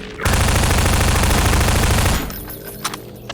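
Automated turret in Half-Life 2: Episode One firing at hunters, a loud continuous burst of rapid gunfire lasting about two seconds that cuts off abruptly, followed by quieter game ambience with a few faint clicks.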